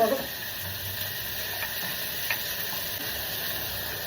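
Onions fry in a pan with a soft, steady sizzle and faint crackle, quiet and close, with a few light clicks of stirring.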